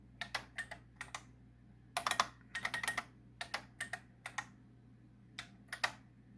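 Typing on a computer keyboard by a DOS machine, with bursts of crisp, close key clicks in uneven runs and short pauses over a steady low hum.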